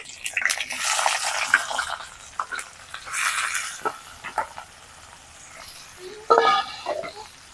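Chopped onion with bay leaf, cinnamon, cloves, and green and black cardamom dropped into hot oil for mutton curry, sizzling in bursts with stirring scrapes, loud at first, easing, then flaring again near the end.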